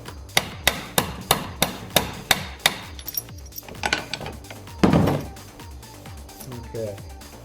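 A hammer strikes metal on a vise's small anvil in a steady run of about a dozen sharp, ringing blows, then a few scattered hits and a heavier clank, close and loud.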